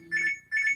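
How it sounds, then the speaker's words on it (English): A phone alarm rings in two short bursts of bright electronic tone, close and moderately loud, during a quiet weaving session at home. "Excuse my phone alarm."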